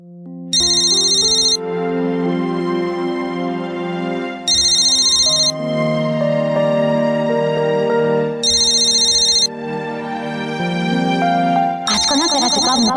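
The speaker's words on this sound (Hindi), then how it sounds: "देख, तृष्णा का ही फोन होगा" A phone ringtone plays in a domestic setting, repeating a bright melodic chime in regular bursts about every four seconds with a sustained musical tone underneath, loud and close.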